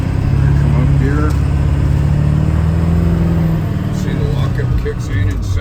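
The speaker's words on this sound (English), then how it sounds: "You can hear the engine rev." A nearby truck engine with a T444E hums and revs steadily, its pitch rising and falling gradually while shifting into second gear under an Allison transmission data-link fault, with a person talking over it throughout.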